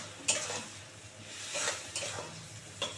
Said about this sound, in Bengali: দিয়ে এবার এটাকে সুন্দর করে কষাতে হবে,